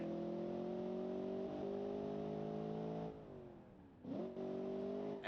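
A 4.4 litre V8 engine of roughly 320 horsepower in the BeamNG driving game holds a steady, loud drone, then drops off briefly before revving back up to a sustained hum.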